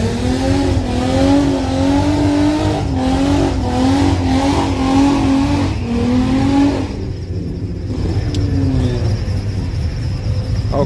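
Drag racing car engine at a drag strip revving hard and loud for about seven seconds with a rising, pulsing exhaust note, then dropping away abruptly to a quieter idle and crowd ambience.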